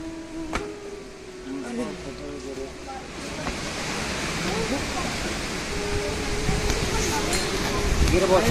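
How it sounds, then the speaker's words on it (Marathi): Steady rushing of natural spring water flowing at Santoshgad fort, gradually growing louder, with a faint voice murmuring underneath. "जिवंतच पाणी आहे."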